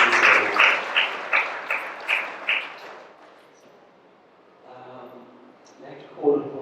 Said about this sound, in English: can we just give a round of applause for his service as spiritual service?